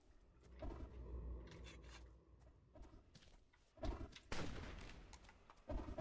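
Gunfire in the video game Betrayer, with several sharp, fairly quiet shots in a short burst and scraping, rubbing noises in between.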